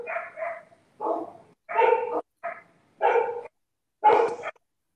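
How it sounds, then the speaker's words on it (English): A dog barks in five separate bursts of yips and barks, fairly close and loud, with short silent gaps between them during a live online talk show. "The dog is bugging."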